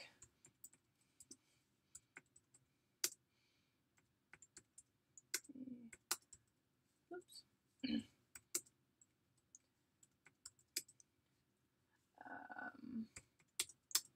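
Scattered keystrokes click on a computer keyboard in irregular bursts with pauses between, quiet and close, with brief low murmurs of a voice now and then.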